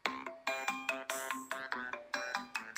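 The Playtime ringtone on a phone plays alone and close: a bouncy, repeating pattern of plucky, croaky electronic notes in a steady rhythm with no pauses.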